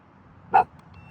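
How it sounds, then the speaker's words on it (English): A single short dog bark rings out once at moderate distance in a quiet cemetery, with faint background hush before and after. "Stop barking."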